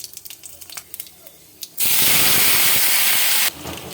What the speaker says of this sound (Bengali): বড়িগুলো তুলে নিয়েছি, তেলে 5 ফোড়ন দিয়ে দিচ্ছি।